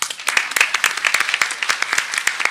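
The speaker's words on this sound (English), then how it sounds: "A mammoth effort. Applause," A short burst of applause from a small group at an editors' association annual general meeting, sharp scattered claps close by with no talking over them.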